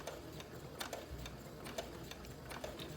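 A sewing machine stitches recycled fabric in short, quiet bursts of rapid mechanical ticking, close by, with small pauses between runs.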